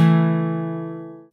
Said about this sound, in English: And then you ring the chord with a slap again.